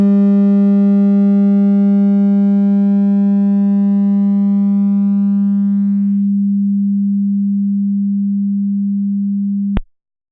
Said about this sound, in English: Very long decay, then we can barely hear the audio signal die out.